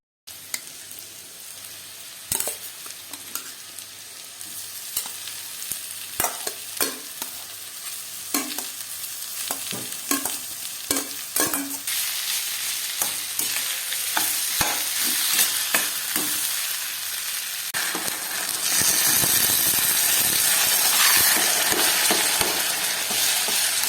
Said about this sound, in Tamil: வெங்காயம் தக்காளியெலாம் போட்டு வதக்கி ஏர் பொட்டேட்டோ போட்டு கொஞ்சம் சில்லி பவுடர் மஞ்சள் பொடியெலாம் சேர்த்து கிண்டி எடுத்தால்